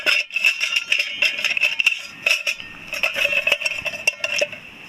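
Stainless steel camping gear, a canteen, stove and military-style cup, handled and knocked together, giving repeated bright metallic clinks and rattles at close range without talk.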